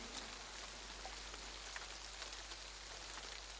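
Steady rain falls, with a dense, even hiss of drops hitting surfaces and a few sharper individual drops. There is no talk over it.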